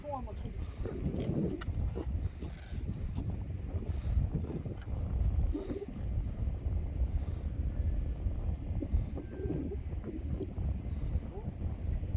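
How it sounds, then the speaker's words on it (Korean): Winter wind at Geojin harbor in Goseong, Gangwon-do, buffets the microphone during surf casting, a steady low roar lasting throughout with a brief voice passing over it. "바람이 너무 분다"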